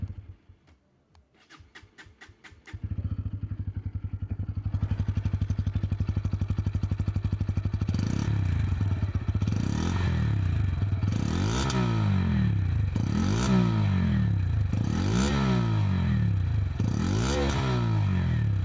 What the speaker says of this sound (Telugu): మెయిన్గా మనం ఎగ్జాస్ట్ నోట్ అనేది విందాం